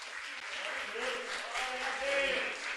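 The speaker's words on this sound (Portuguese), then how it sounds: "A igreja vai aplaudir o Senhor pela vida dele." A church congregation at a men's worship service claps together in a brief, continuous burst of applause, with faint voices mixed underneath.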